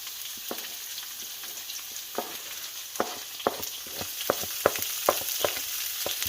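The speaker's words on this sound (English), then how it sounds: "I'm just going to saute that for a couple minutes" Medium red onion sautés in oil in a pan for Filipino pancit, a steady close sizzle punctuated by a series of sharp stirring clicks and scrapes, with no talking over it.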